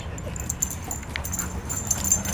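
Leader dog whimpering while playing, soft high whines and yips close by over low scuffling noise.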